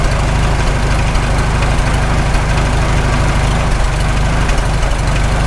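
A freshly rebuilt Farmall H tractor engine idles close by in a loud, steady low-pitched chug with an even rhythmic pulse and no talking.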